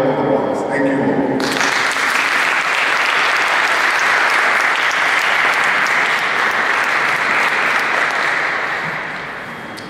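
Sustained applause from an audience at a Bronx press event on anti-LGBTQ crime, honoring Borough President Diaz; a brief voice at the start gives way to loud, steady clapping that holds, then tapers off at the close.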